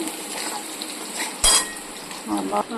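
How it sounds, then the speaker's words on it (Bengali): Potatoes frying in oil in a pan give a soft, steady sizzle, broken by a sharp clatter of a utensil against the pan near the middle and a few quieter scrapes toward the end. "আলুগুলো সুন্দর ভাজা হয়ে গেছে"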